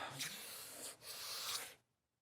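Steady abrasive rubbing of sandpaper on a sanding block across a wooden guitar fretboard in two long back-and-forth strokes, close and fairly loud, then it stops.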